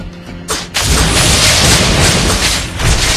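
A turret being destroyed in the Mobile Legends video game, a heavy boom followed by a sustained loud, rumbling blast that stays dense throughout.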